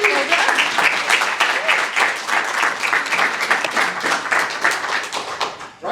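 An audience applauds after a pitch at an impact pitching event, a dense, steady burst of clapping from many hands that carries on for several seconds before cutting off.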